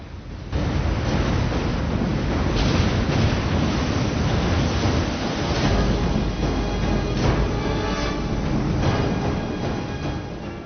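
Heavy ocean surf crashes and roars continuously in a disaster-film scene of waves flooding major cities, a dense, loud wash of water and wind.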